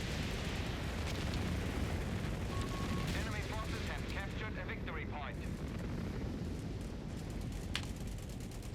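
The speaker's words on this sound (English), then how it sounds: "Artillery is hitting the Grant" Artillery shells burst in a loud, dense Company of Heroes battle on a river valley map, a continuous roar of explosions and gunfire with a voice talking over it throughout.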